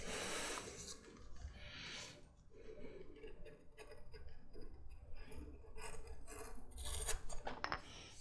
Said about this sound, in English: the hard piece to skive is going to be this one